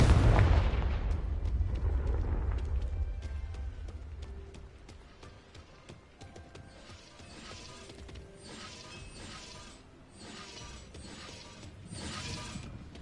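Confringo spell blasts in the video game Hogwarts Legacy: a loud explosive burst opens, decaying into scattered clattering, shattering debris and mechanical ratcheting clicks that continue faintly.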